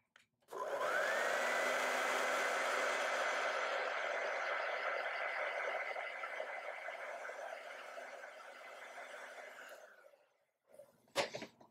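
A handheld hair dryer blows steadily on wet acrylic paint, a loud even whoosh with a whining motor tone that slowly fades before shutting off, then a few faint clunks.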